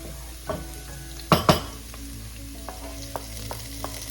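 Garlic stirred in a hot pan while cooking squid adobo: a steady oil sizzle with a few sharp utensil scrapes and clacks near the start, then lighter taps over the continuing fry.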